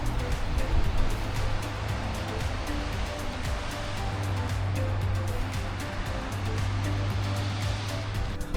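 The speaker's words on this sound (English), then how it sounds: "it also overlooks waves crashing on the beaches below" Ocean waves crash on beaches below the coastal hillsides at Half Moon Bay, making a continuous broad rushing roar of surf with steady swells and no voices.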